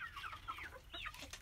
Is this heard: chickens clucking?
yes